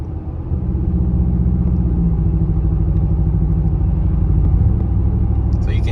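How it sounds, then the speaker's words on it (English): Ford 5.0 V8 fitted with SPD high-flow catalytic converters and a Corsa Extreme exhaust, a loud steady low rumble while cruising, the tone turning choppy under cylinder deactivation. "the tone change is a lot more apparent when going into cylinder deactivation now, because the overall exhaust is louder"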